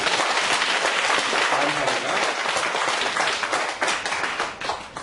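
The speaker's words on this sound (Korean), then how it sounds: "함께 자, 하나님께 영광의 박수를 드립니다." A church congregation at a Sunday worship service breaks into loud, sustained applause, a dense wash of clapping hands that fills the room for several seconds and tapers slightly at the end, with a voice speaking briefly over it.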